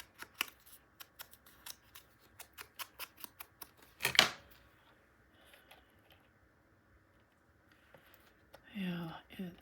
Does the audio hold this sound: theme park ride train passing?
no